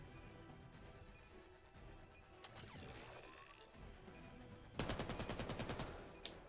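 Gunfire in the VAIL competitive VR shooter during a 1 versus 2 clutch: scattered single shots early, then a loud rapid burst of automatic fire near the end, with clinking and movement noises between.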